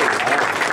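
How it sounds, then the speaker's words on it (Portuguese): Brief burst of applause from a gathered crowd at the inauguration of a community museum, steady and fairly loud clapping. "Aí, aplausos!"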